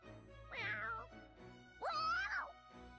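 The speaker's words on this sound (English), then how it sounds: "That's a cat, Constance." A cat meows twice in the Fire Emblem Warriors: Three Hopes video game, two clear close calls about a second apart over faint background music.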